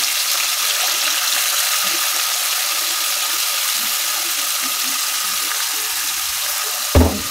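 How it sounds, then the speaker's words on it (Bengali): Onions frying in oil in a pan while making a chicken curry, a steady broadband sizzle running evenly throughout, with a brief louder clatter near the end. "এই পেঁয়াজগুলো আমি বাদামি কালার করে ভাজবো"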